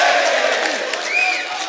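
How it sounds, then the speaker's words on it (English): Crowd at a grappling match roaring and cheering after a takedown attempt, a loud sustained wash of shouts and whistles with a rising yell near the end. "The crowd goes wild."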